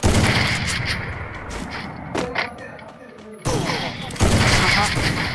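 Sniper rifle and gunfire in a shooting video game, with sharp shot bursts and thuds recurring over continuous battle noise and music, loud throughout with a brief quieter dip midway.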